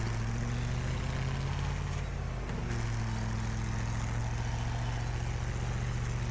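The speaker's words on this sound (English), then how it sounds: "Battle bus is starting to make a few funny noises now, but still got a reasonable amount of health left." A battle bus in the Wreckfest racing game, taking damage, gives a steady, loud low engine drone with harmonic hum that runs throughout, with no talking over it.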